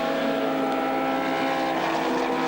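Group C prototype race cars, a Spice closely chasing a Porsche, sweep through the Porsche Curves at Le Mans, a steady loud engine drone with wind rush and no pause across the pass.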